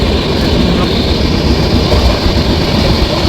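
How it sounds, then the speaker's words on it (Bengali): A train running through fog on the way to NJP, with loud, steady close rumble and broadband rolling noise throughout, heard from inside or beside the carriage. "কুয়াশা ভেদ করে আমাদের ট্রেন ছুটে চলেছে।"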